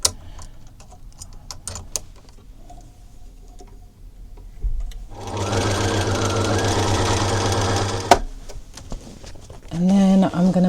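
A sewing machine stitches a strap in a steady whirring run of about three seconds mid-clip, with quieter handling sounds and brief voices before and after it.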